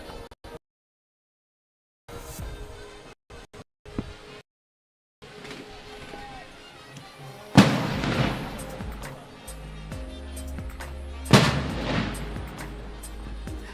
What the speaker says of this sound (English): As the firecrackers go